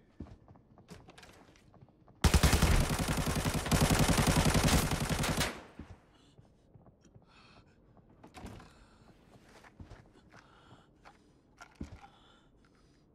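A gun in the shooter game Arena Breakout fires one dense, loud burst of rapid automatic shots lasting about three seconds, followed by quiet scattered clicks, footsteps and small knocks.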